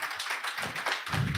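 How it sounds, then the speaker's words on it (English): Audience clapping at a Tata Motors iFactory event in Jamshedpur as a guest comes on stage, a brief burst of dense hand claps swelling slightly toward the end. "Round of applause, please."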